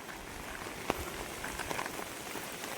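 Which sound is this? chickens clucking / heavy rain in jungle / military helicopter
heavy rain in jungle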